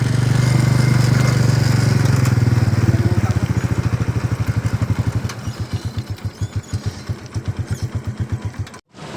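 A 2000 Honda Type C motorcycle engine runs close by at a fast steady idle, then slows into distinct rhythmic low thumps and chugs before cutting out near the end.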